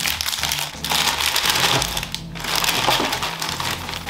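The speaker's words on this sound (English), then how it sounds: "You're just bashing the shit out of some biscuits." Biscoff biscuits are bashed into crumbs, producing loud, gritty crunching and crackling in repeated bursts with a short pause midway, and no voice over it.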